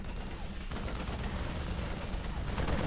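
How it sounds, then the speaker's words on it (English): Marine rapid-fire gunfire in a StarCraft 2 match, a dense continuous crackling burst that stays loud and unbroken throughout. "One Marine shooting at this Overlord here"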